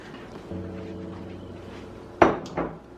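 A lid is set onto a cooking pot of simmering turkey necks, with two sharp metallic clanks close by after a low steady kitchen hum.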